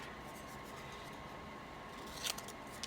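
Scissors cutting strips of paper for a craft book, faint soft snips and rustles close by in a quiet room, with a sharper cut near the end.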